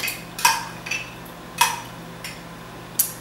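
Spoon scooping sour cream into cake batter in a bowl, with a few light clinks and taps at an irregular pace, close and fairly quiet.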